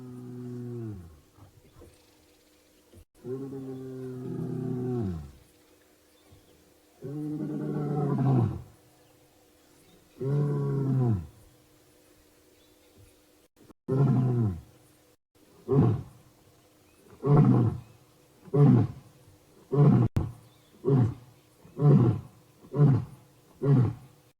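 A male lion at a sunset safari gives a long contact-calling sequence: several deep drawn-out moaning roars, then a quickening series of shorter grunting roars, loud and fairly close over quiet bush.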